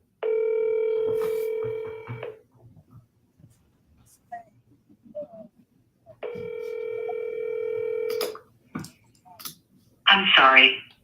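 Two long telephone ring tones on an outgoing call sound a few seconds apart, with soft clicks and small noises in the gap, followed by a brief burst of a voice at the end.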